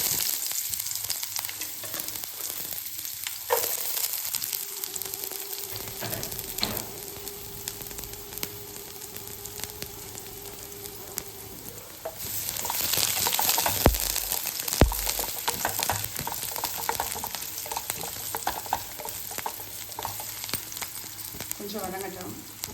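Onions sizzle in hot oil with mustard seeds and curry leaves, a steady close frying hiss that swells loudly midway as more goes into the pan, with occasional stirring clatter.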